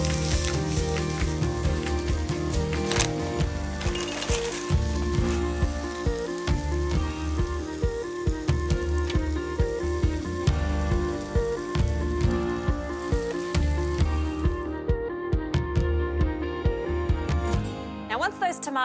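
Chorizo fries in a pan with a steady, dense sizzle and crackle that continues throughout before cutting off near the end, while a person talks over it.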